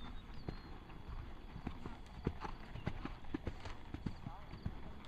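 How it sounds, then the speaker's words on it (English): Hooves clip-clop in a steady, uneven rhythm nearby, with people talking over a low outdoor background. "Yep, that's Kyle's horse."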